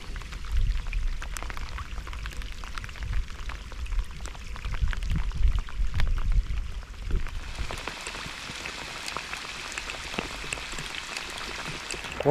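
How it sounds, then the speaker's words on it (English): Heavy rain pours down at night at a coastal fishing session, a steady dense hiss of drops drumming on surfaces, loud and continuous throughout with a brighter, harder patter in the last few seconds. "it is peeing down, and I mean properly peeing down"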